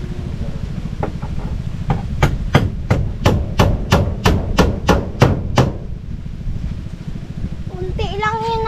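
A hammer drives small iron nails during home repair work, with about a dozen sharp, evenly spaced strikes ringing out close and loud over a steady low hum, followed by a brief voice at the end.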